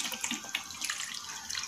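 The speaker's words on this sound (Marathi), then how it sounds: "थोडंस पाणी घालायचं आहे" Water streams steadily into a pan of rohu fish curry gravy, a continuous close splashing pour with no talking.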